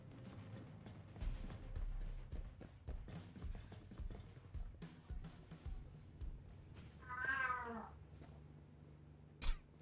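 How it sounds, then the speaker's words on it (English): A real cat lets out a single drawn-out meow midway through, close and clear, amid quiet indoor shuffling, soft footsteps and game sounds from a Ghost Recon Breakpoint session. "That cat."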